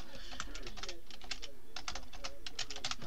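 Rapid typing on a computer keyboard, close and crisp, with quick bursts of clicking keystrokes separated by short pauses.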